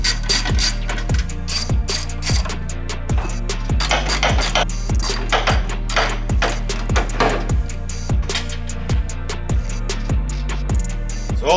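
Rapid ratcheting clicks from a hand ratchet working fender bolts loose on a 2022 Honda Civic, a steady rhythmic train of sharp metallic ticks running loud and close throughout.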